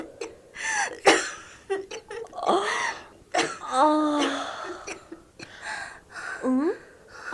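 A man with a hacking, wet cough coughs repeatedly in a snowy winter setting, with harsh bursts mixed with groans and breathy moans. A voice speaks briefly between the coughs.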